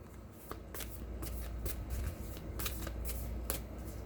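Tarot cards being shuffled by hand in a series of quick riffling, flapping bursts over a steady low room hum, close and fairly soft, with no talking.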